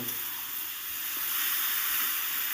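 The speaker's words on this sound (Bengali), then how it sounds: "এবার সামান্য জল দিয়ে মশলাটা ভালো করে একটু কষিয়ে নেব" Spice paste with a little water sizzling in a pan for a small rohu fish curry with winter vegetables, a steady close bubbling hiss without voices.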